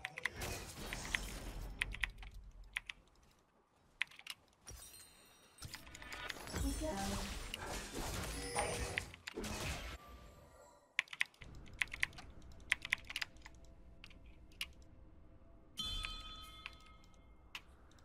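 Typing on a computer keyboard during a gaming session, with rapid clusters of close keystroke clicks and sharp taps in uneven bursts separated by short pauses, fairly near and prominent.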